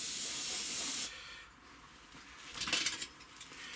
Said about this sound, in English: I'm just going to give the cockpit a bit of a flat coat as well while I'm there.